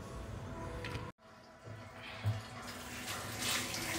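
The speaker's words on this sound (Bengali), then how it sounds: "এখন আমি আলুগুলো ওয়াশ করে নিচ্ছি" Potatoes rinsed under a running kitchen tap, a steady close rush of water with a brief break and soft splashing shifts as the potatoes are handled.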